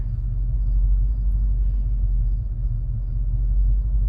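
An old truck engine idles in drive, a steady low rumble with a slightly uneven, stumbling note that holds close and constant throughout, with no voices.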